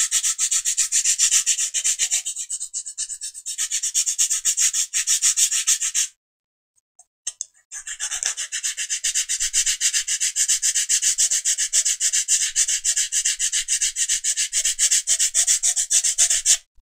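Hand file rasping a bevel into aircraft fuselage skin for a PUP kit plane, steady rapid back-and-forth strokes close up, pausing briefly in the middle before resuming.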